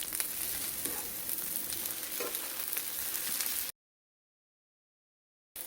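Korean jeon pan-fry on a stove in a steady, quiet sizzle with faint crackles and spatters, cutting off abruptly partway through.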